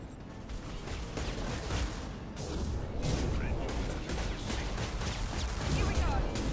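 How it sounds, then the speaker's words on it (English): Rapid AP pistol gunfire in a video game, dense repeated shots and impacts layered over a busy, loud mix of game noise with no speech. "The AP pistol again."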